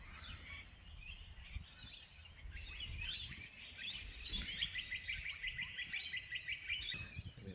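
Lorikeets chatter and screech at Victoria Point, a flock of parrots calling in busy overlapping bursts that grow into rapid repeated shrill notes, moderately distant and with no talk.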